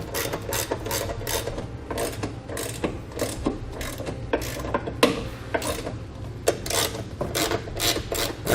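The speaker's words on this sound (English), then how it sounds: "now we'll tighten up the forward bolt and the nut on top" A bolt and nut being tightened on a nerf bar bracket for a 2014 Ram 2500 with a ratchet wrench, producing rapid repeated clicking strokes close up, steady and rhythmic without talk.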